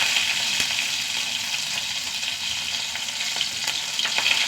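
Small shallots and dried red chillies fry in oil after mustard seeds, making a loud, bright, continuous sizzle up close, broken by occasional sharp crackles and spits.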